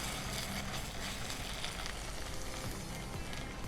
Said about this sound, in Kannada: ಇದು ಸ್ಮೆಲ್ ಹೋಗೋ ತನಕ ಸ್ವಲ್ಪ ಫ್ರೈ ಮಾಡಬೇಕು.